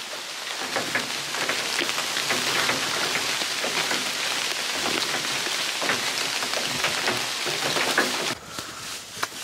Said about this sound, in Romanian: Ce frumos plouă cu soare.